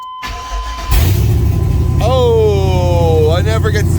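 A truck engine, fitted with a Holley dash, cranks and catches, then settles into a loud steady idle with a rising whine, close by, with a voice heard over it.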